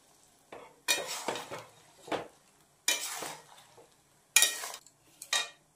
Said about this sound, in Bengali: তো এটাকে এখন ভালো মতো মিশিয়ে নিচ্ছি।